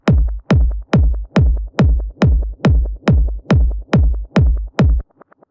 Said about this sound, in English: So the echo sounds like this.